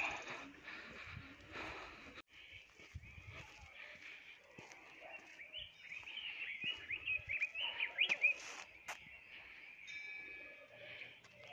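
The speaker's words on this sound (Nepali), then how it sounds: "यहाँ चराचुरुङ्गी पनि बिहान बिहान कराउँछ।" Birds chirp and tweet in scattered bursts outdoors in the morning, growing busier midway, with soft rustling and ambient noise beneath.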